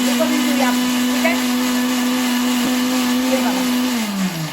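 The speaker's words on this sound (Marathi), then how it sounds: "आता ह्याला आपण मिक्सरमध्ये फिरूया." A kitchen mixer blends muskmelon and watermelon, its motor holding a loud, steady whine with a churning rattle of fruit before the pitch sags slightly near the end.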